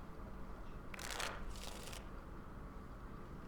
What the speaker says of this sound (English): Before we start, the cards must be shuffled.